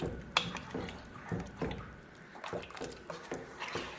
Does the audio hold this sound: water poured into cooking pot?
yes